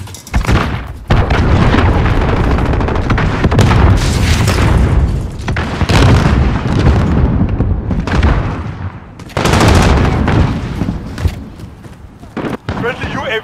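Cruise missile strike in Call of Duty: Modern Warfare multiplayer, with loud, rolling explosions and booms mixed with bursts of gunfire through most of the stretch, and voices heard among them.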